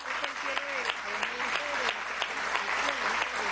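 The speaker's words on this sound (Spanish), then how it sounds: "Un aplauso, gracias." Crowd at a Venezuelan presidential event launching a national humanized childbirth plan applauds in a steady, dense clatter of clapping, with a voice speaking over it throughout.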